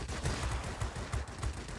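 Aircraft cannons hammer in rapid continuous bursts in the World of Warplanes video game, a dense loud rattle of gunfire filling the whole moment with no talking.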